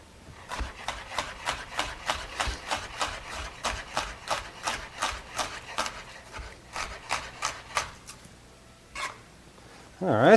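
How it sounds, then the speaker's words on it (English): A knife dices a shallot on a cutting board in a steady run of about twenty crisp, rhythmic chops, close and clear, ending with a few scraping sounds. "And now simply dice the shallot."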